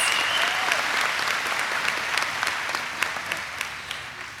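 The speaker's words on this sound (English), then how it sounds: "Let's give them a round of applause" A commencement audience at a college education ceremony applauds master's degree graduates with dense, sustained clapping that thins slightly toward the end, sharper individual claps standing out.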